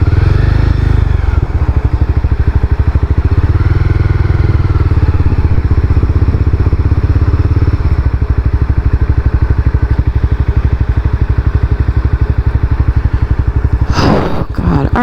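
A Honda CBR300 motorcycle ridden by a beginner, its engine droning loud and steady throughout with a constant low rumble and wind noise, ending in a brief clattering burst near the close.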